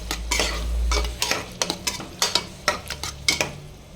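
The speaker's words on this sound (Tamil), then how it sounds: "இஞ்சி பூண்டு பேஸ்ட், தயிர் ஊற்றிக்கோங்க. நல்லா வதக்கி விட்டுக்கோங்க." Ginger garlic paste and yogurt stirred in a pan, with a rapid series of spoon scrapes and taps against the metal over a soft sizzle, close and fairly loud.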